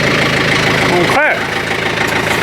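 A 2N or 110 tractor engine idles with a steady low mechanical drone while tilling manure into a garden, holding close and fairly loud, with a brief voice breaking in partway through.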